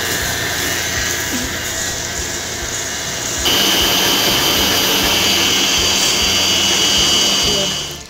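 Electric hand mixer whirring steadily as it creams butter with white and brown sugar, a continuous loud motor drone that grows louder and harsher partway through and runs without talk.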